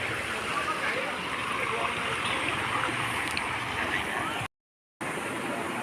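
River water rushing hard against a solid stone bank at a bend, a continuous loud broadband rush that briefly cuts out near the end.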